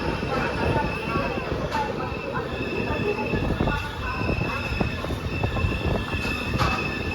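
Pinakini Express train pulling into platform 3 at Nellore station, with loud continuous rumbling of railcars and repeated high squeals from the wheels, steady and close, over faint station background.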